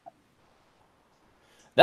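A voice imitates a burp during a tabletop fantasy role-playing game session: after near silence with a faint murmur, one short, loud, close belch-like burst ends the moment.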